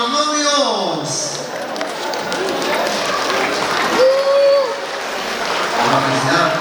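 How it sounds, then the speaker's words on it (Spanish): Wedding guests applaud the bride and groom after a toast, sustained clapping and cheering from a gathered crowd under voices and shouts. "Y fuerte los aplausos para los novios."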